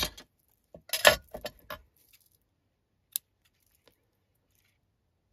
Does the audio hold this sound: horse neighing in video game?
no